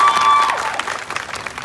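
Audience applause with some crowd cheering, loud and close, bursting in at full strength and then thinning into scattered claps over less than two seconds.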